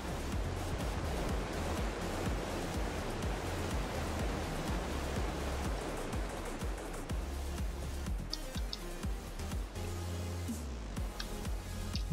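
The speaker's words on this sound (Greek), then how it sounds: "Βλέπω κάτι ωραίους καταράκτες εδώ πέρα." Cascading waterfalls in the ARK: Survival Evolved Ragnarok map, a steady broadband rush of falling water that stays loud and constant throughout, with a softer, thinner stretch near the end.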